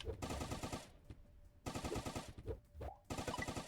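A submachine gun in a video game fires in rapid sustained bursts, loud and close, broken by brief pauses between strings of shots.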